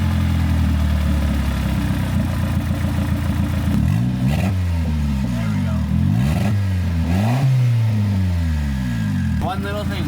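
A turbocharged Honda Civic engine idles and revs in repeated rising and falling sweeps, loud and close, with the pitch climbing sharply on each throttle blip.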